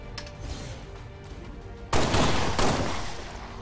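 A sharp gunshot blast at a Stun Lancer in XCOM 2 hits loudly after a quieter stretch of game ambience, followed by a second burst and a decaying rumbling tail.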